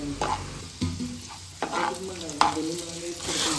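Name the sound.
garlic and green chili frying in pan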